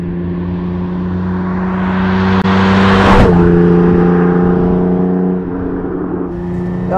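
A 1973 Ferrari 246 GT Dino driving on Bavarian roads, its engine droning steadily, then swelling and rising in pitch as it accelerates, dropping back to a lower hum after a gear change.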